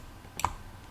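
One soft, short click from a computer mouse confirms a command in Inventor CAD software, heard close against quiet room noise.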